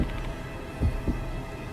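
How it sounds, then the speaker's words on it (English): A low heartbeat sound effect from the video game Death Mark 2 thumps twice, muffled and deep over a quiet hum, with no talking. "My heart is beating so fast, my vision starts to blur."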